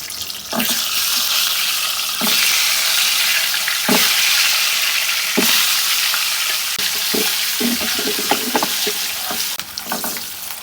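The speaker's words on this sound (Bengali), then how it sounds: "ডিমগুলো দিয়ে ভেজে নেব" Eggs fry in hot oil with turmeric and a little salt, giving a loud, continuous sizzle with occasional scrapes and stirring knocks from a utensil, and no voices.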